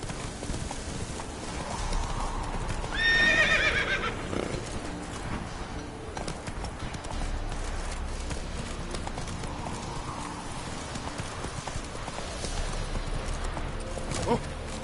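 A horse gallops in The Witcher video game, a steady clip-clop of hooves throughout with a brief whinny near the start, under game music and some faint voices.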